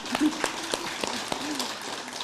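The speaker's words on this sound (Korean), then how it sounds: "이건 막 너무 잘하시네. 박수." Audience applause at a Lotus Sutra Buddhist lecture, a dense, steady patter of many hands clapping at moderate distance, with a few sharper claps poking through over about two seconds.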